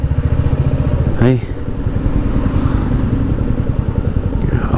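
A Royal Enfield Meteor 350 motorcycle on the move gives a steady, thumping single-cylinder engine beat throughout, close and fairly loud, while a rider talks over it.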